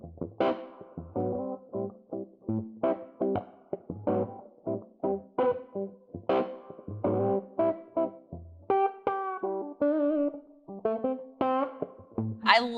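Electric guitar played through an overdriven tube amp with the tone knob turned all the way down, giving a dark, warm, saturated sound as repeated chord stabs and short riffs ring out loudly and alone.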